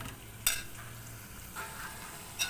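Prawns cooking in a pan get stirred with a spoon, giving a low sizzle under a couple of sharp scrapes and taps.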